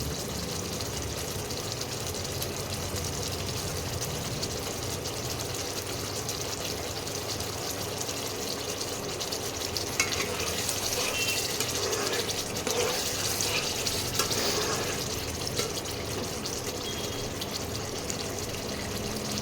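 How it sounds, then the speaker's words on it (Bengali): Water poured into a pan of pointed gourd cooking in hot oil gives a steady, full hissing rush that swells slightly partway through and keeps going without a break. "এবারে জল দিলাম, ব্যাস।"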